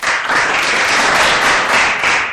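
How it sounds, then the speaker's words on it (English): A small audience gives light, polite applause during a local music show, a soft steady patter of hand claps at close range with no voices. "I appreciate the golf claps"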